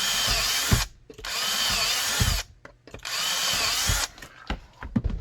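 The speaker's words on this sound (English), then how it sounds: "and drill those 4 holes." Power drill boring four holes during a Ruger SR9 and knife combo project, three long loud bursts of whirring drilling separated by brief pauses, ending with short stuttering drill pulses.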